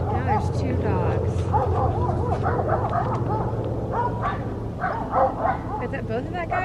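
Two dogs in Alaska yip and bark excitedly at close range, their voices rising and falling over steady background noise while people talk anxiously nearby.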